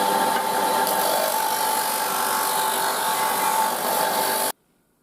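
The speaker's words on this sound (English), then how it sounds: "I'm just going to round it off on the disc sander" Disc sander rounding off the handle end of a full tang knife, a steady loud grinding whine with a tonal hum that holds for about four and a half seconds, then cuts off abruptly into silence.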